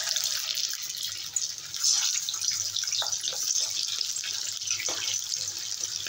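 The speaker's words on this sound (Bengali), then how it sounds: "হালকা আঁচে ভাজবো।" Fish roe koftas fry in hot oil over low heat, giving a steady, close hiss of sizzling that runs evenly throughout with no voices.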